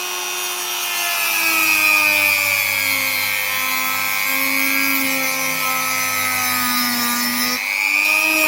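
A cordless power tool whirs steadily as it carves into the wooden handle of a replica sword, its pitch drifting slightly and dipping briefly near the end under load before picking back up.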